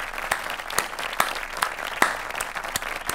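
Audience applause at a comedy show, steady dense clapping with a few sharper bursts, close and fairly loud throughout with no speech.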